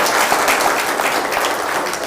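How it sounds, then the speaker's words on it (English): An audience at an anniversary event on philanthropy and climate action breaks into loud, sustained applause, dense and continuous throughout. "Can we clap for her?"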